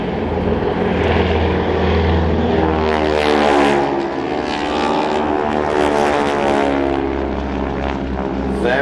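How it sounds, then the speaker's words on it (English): Biplanes with 480-horsepower Pratt & Whitney radial engines roar overhead at an airshow, their propeller drone loud and continuous, pitch rising and falling as they pass close by. "480 horsepower Pratt & Whitney engines"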